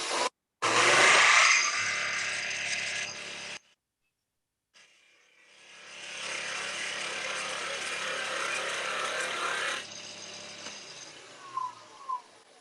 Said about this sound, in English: if we reorient the tool, right, so that the wood rotation is in line with the blade